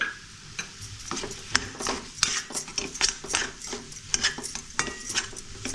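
A spoon scrapes and clinks in a bowl while potato and semolina momo filling is mixed, giving a close, irregular run of stirring taps and scrapes with no talk.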